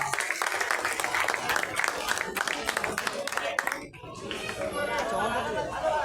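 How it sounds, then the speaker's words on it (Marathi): A crowd at a Ganesh Nagar festival ceremony claps loudly for a young girl, a dense burst of applause mixed with chatter for the first four seconds before dropping away to softer murmuring and voices. "सानवीसाठी एका जोरदार टाळ्या होऊन जाऊ द्या"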